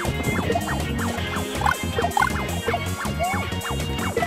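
Giant bird enemies in Super Mario Bros. X squawk again and again in short, falling gobble-like cries over steady, busy game music, keeping a brisk rhythm throughout.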